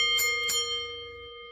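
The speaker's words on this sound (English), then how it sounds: "let me ring the bell so we can get out of here" A single bell rung to close a wrestling talk show, two quick bright strikes with a sustained ringing tone that fades slowly, heard alone.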